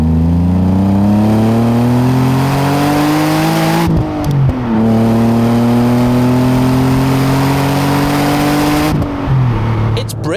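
A 250-horsepower Alfa Romeo 156 GTA Sportswagon engine revs up through two long, rising pulls, with brief dips near four and nine seconds. The engine is loud and close throughout.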